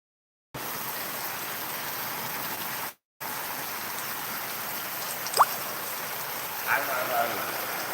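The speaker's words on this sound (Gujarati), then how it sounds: "વરસાદ ઘણો પડે છે" Heavy rain falls steadily, a dense, even hiss that fills the whole clip after a short silent start, with one brief dropout near the middle and a few faint knocks or drips on top.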